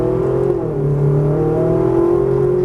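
A Ferrari 458 Italia's engine pulls hard in second gear on a speedway circuit, a loud, steady, close-up roar with rising harmonic tones that swell continuously.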